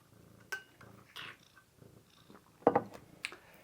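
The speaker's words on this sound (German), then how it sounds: "Heute mit Kater Smoky." Smoky, a male cat, purrs softly and close by with a low pulsing rumble, broken by a few brief louder chirps and snuffles in a quiet room.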